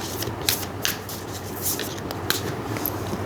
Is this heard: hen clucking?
no